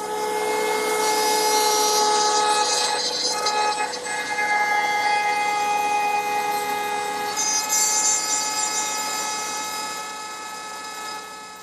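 A wood router cutting rabbets with its bit guided by a block, giving a steady, loud, high-pitched whine that holds through the whole stretch and eases slightly toward the end.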